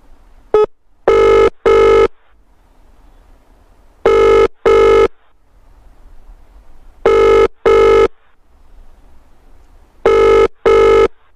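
A telephone rings during a live farming call-in show, sounding four times as loud, close double rings spaced a few seconds apart, with faint background hum between them and no talk.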